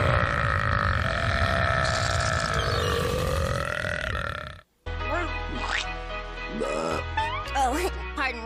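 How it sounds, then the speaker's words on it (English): A female cartoon character burps, a long rumbling belch that ends abruptly, followed after a short gap by more cartoon voices and music. "Oh, love, your burps are like the sweetest."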